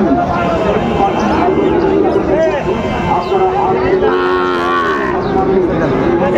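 Cattle moo loudly at a busy livestock market in Dinajpur where Sahiwal bull calves are traded. Long, close lowing calls rise over constant crowd chatter and trading voices.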